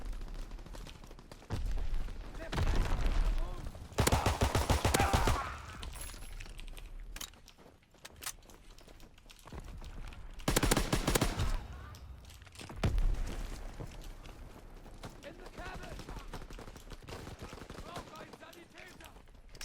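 Gunfire from a low-recoil weapon in the World War II shooter Call of Duty WW2, played on PC, comes in loud bursts of rapid shots separated by quieter stretches of game ambience and radio voice lines.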